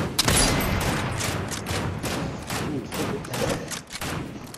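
Continuous rapid gunfire in a shooting video game, overlapping volleys of shots crackling close and loud throughout, with little pause.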